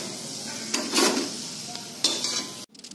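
Wheat-flour biscuits frying in hot oil, with bursts of loud close sizzling and a metal spoon scraping and clacking against the pan as pieces are lifted out, ending abruptly.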